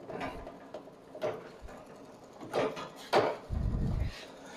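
Power feed sprockets and chain run on a Frontier OS27 sawmill, with irregular mechanical clanks and ratcheting clicks over a low, quiet background and a short low rumble near the end.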